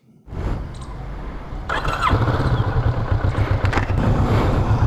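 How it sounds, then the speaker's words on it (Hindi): A motorcycle starts and pulls away on a day ride through Chandigarh toward the Le Corbusier Centre, its engine rising to a steady, loud, close drone with a brief squeal and some clatter, and no voices. "अब हम चलते हैं डायरेक्टली अपनी बाइक पे और हम निकलते हैं लेक कॉर्ब्यूज़र सेंटर के लिए।"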